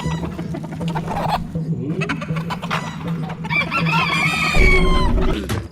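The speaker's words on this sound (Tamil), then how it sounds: "வீட்டுக்குள்ள ஒரு சேவல் நிக்குது" A rooster inside a house in a film scene, clucking and crowing in a few short calls over background music and mixed sound effects.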